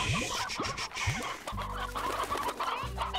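Chickens cluck in the video game Slime Rancher, a close, busy run of short clucks over a steady low hum, with no talking.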